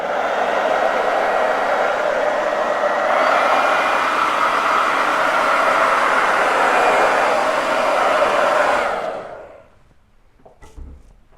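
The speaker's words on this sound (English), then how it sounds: "let's hit this with a hairdryer just on the low setting." A hair dryer runs on its low setting with a steady broad airy rush and hum for about nine seconds, then cuts off, leaving faint small handling sounds.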